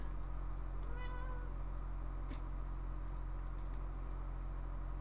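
A cat meows near a computer keyboard, giving a short rising cry, with scattered key clicks and a steady low hum underneath.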